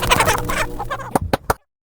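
A rooster clucks and squawks loudly at close range, a busy run of calls followed by three sharp, separate clucks before sudden silence.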